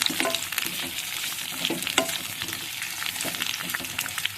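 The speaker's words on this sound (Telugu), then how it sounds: "జాంకాయ ముక్కలు పచ్చిమిర్చి బాగా వేగాలండి." Guava pieces and green chillies fry in a pan for a steady, crackling sizzle, with scattered sharp pops and occasional stirring scrapes, close and moderately loud, with no voices.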